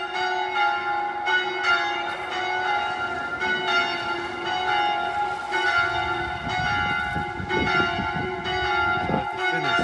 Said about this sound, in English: they are now lowering the bells